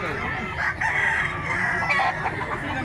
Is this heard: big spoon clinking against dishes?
no